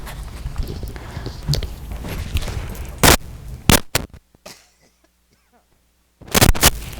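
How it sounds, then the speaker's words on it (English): A person clears their throat close to the microphone in a few loud, harsh bursts, with a short silent pause before a final pair of sharp rasps. "Had to clear my throat."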